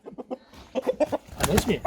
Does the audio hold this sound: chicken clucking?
yes